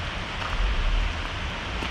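Steady rain falling in a forest near Sitka, Alaska, a dense, even hiss of drops on leaves with a low rumble underneath, continuous and fairly close, with no voices.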